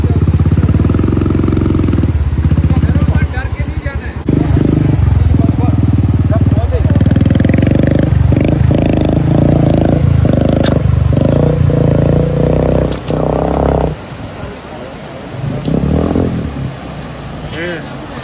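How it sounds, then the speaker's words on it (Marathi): Motorcycles cross a bridge on a mountain drive from Nubra to Pangong, their engines droning loud and close over continuous road noise while people talk throughout, the sound easing near the end. "बाईकवाले कसे ब्रिज क्रॉस करतात"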